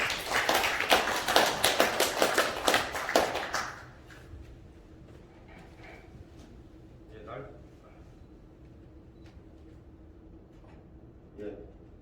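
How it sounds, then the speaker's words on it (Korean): An audience at a city council lecture event welcomes a speaker with about four seconds of brisk, fairly loud clapping that stops abruptly, followed by quiet room tone and faint voices. "박수로 맞이해 주시기 바랍니다"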